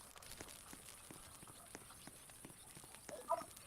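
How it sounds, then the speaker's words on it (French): Faint, quick hoof clops of a horse in the video game 99 Nights in the Forest, an irregular patter of soft taps running under a quiet background hiss. "Un cheval."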